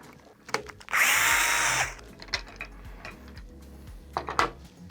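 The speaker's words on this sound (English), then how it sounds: "there are 2 Phillips head screws here that you'll go ahead and loosen to remove the top cup" A powered screwdriver loosens Phillips head screws on a GDS Tough Dock, giving one close, roughly one-second whir, followed by sharp clicks and metallic handling clatter.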